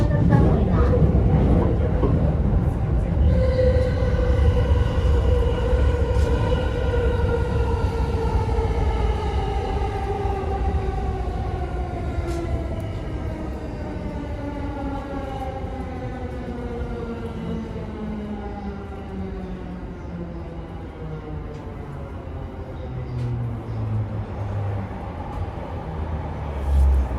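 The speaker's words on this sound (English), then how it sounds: "There's a Chuo line Honsen going by real fast." A Chuo Line rapid train on the Tokyo main line rushes past at speed: a loud rumbling roar with a falling, drawn-out whine that trails off slowly.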